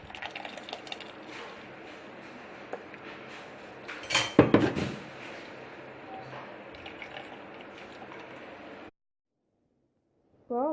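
Blended pomegranate juice is strained through a strainer: soft trickling and dripping with light metal clinks, a louder scraping clatter midway, then sudden silence before a short tone at the very end.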